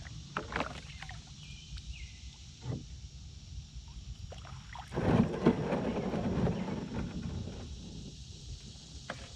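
Kayak paddling on a creek at Raccoon Creek State Park: soft, intermittent water splashes and dips of the paddle, close by, with a louder burst of swishing partway through and a faint wind hiss behind.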